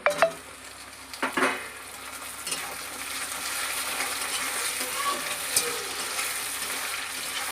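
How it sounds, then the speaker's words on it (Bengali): Chopped tomatoes added to frying onions in a pan for a Bengali fish-head muri ghonto: a few sharp clatters and a burst at the start, then a continuous close sizzle with light stirring scrapes. "এর মধ্যে এবার টমেটো কুচিটা দিয়ে দেব।"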